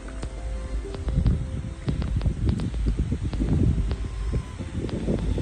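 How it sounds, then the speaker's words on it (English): Gusty wind on the Long Trail during a hike rumbles low and uneven against the microphone, with soft rustling and a few light knocks, no voices. "It's windy today."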